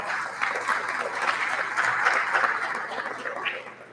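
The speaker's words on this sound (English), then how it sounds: "give them a round of applause for showing up and showing out" An audience gives a round of applause at a school male leadership day event, a broad wash of clapping that swells slightly midway and then tapers off.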